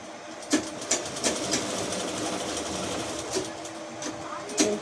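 Sewing machine slowly stitching the border of a sari, a steady mechanical whir with soft periodic knocks and clicks, close and moderately loud, without clear speech.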